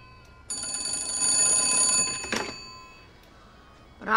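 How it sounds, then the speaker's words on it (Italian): A telephone rings indoors in a comic Italian film: one sustained bright metallic ring lasting about two seconds, loud and close, followed by a thump and quieter room sound. "Ho sentito il telefono?"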